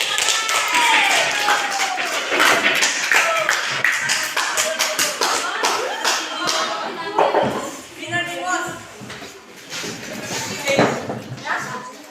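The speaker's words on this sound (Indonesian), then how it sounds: "Berikan aplaus dulu buat kelompok 3" Applause rises for a student group at a school supervision practice session, a dense patter of many hands clapping steadily throughout at close range, with voices mixed in.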